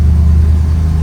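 Engine of a 1964 Ford Galaxie revving as the car pulls away, a loud, close, steady low rumble with no voices.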